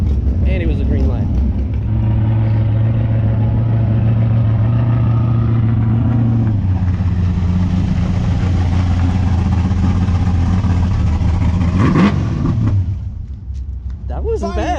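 Drag race car at an outlaw dragway, a loud engine drone that steps up in pitch, rises into a high-revving pull and then fades away, with talk over it.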